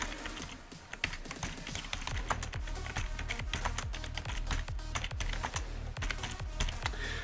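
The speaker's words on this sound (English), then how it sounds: "so I'll type that in the chat right now" Someone types on a computer keyboard, a rapid, steady clatter of keystrokes with a few sharper taps, close and quiet, with no talking.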